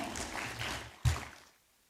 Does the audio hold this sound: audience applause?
yes